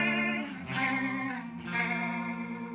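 Electric guitar through a chorus-like modulation effect turned all the way up, sustained chords wobbling with a thick underwater warble and pitch drift, played alone and fairly close.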